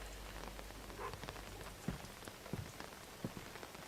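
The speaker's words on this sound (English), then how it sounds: "And it is still raining." Steady rain in the video game Book of Travels, a soft continuous patter of drops on a surface with a few slightly louder taps, fairly quiet and alone without voices.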